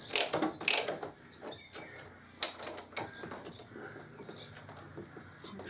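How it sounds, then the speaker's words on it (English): Allen bolts being nipped up on the swingarm of a 2005 Harley-Davidson Electra Glide, heard as a few sharp ratcheting clicks near the start and again midway, then quieter mechanical fiddling, with no talking. "we'll just nip these Allen bolts up first"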